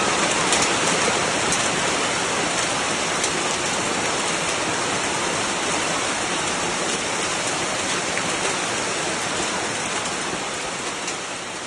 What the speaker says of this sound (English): within only a few short minutes, bustling streets, ancient hutongs, and wide ring roads were all engulfed by a fierce downpour of hail